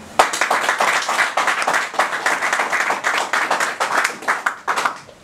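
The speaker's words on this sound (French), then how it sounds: "Nous devons encore l'applaudir" An audience at a Congolese political gathering applauds, dense hand claps rising in bursts and staying loud and close for several seconds with no speech over them.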